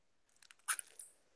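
Crunchy Taco Bell food being chewed close to the mic, a few soft bites followed by one louder crunch and a couple of quieter crunches, with no talking.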